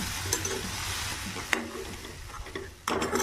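Indian-style pasta is stirred and sautéed in a pan: a dense, close frying hiss with scraping stirs and a few sharp knocks of the spoon.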